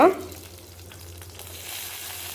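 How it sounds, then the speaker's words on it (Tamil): Garlic cloves with green and dried red chillies sautéing in hot oil in a pan for tomato coriander chutney, a steady soft sizzle after a brief louder start, with no talking. "இந்த பூண்டு பச்சை மிளகாய் எல்லாம் ஓரளவுக்கு வதங்கி வரணும்"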